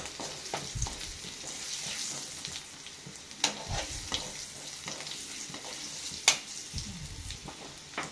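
Garlic fries in a pan for chutney with a low, continuous sizzle, broken by scraping stirs and a few sharp clinks, with no one talking.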